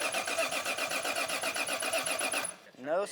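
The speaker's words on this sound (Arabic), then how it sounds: "ودلوقتي جت لحظه تشغيل الموتور." A BMW E36 engine, modified for about 600 horsepower, cranks rhythmically for about two and a half seconds without catching, then stops and a voice begins talking.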